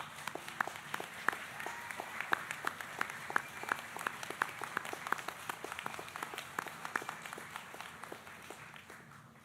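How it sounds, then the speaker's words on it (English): Graduating class of 2023 stands and applauds families and friends at a commencement ceremony; scattered, fairly distant clapping from a large hall, sparse distinct claps over a soft crowd roar. "I ask the class of 2023 to stand and applaud your families and friends and neighbors"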